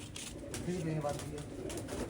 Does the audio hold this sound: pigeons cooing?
yes